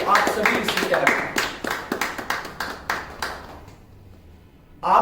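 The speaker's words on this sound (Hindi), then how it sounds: "मैं आप सभी के लिए जोरदार तालियां बजाना चाहता हूं।" Scattered rhythmic clapping from a small group at a corporate launch event in Dubai, individual claps audible and fairly close, thinning out and fading to near silence before a voice resumes at the end.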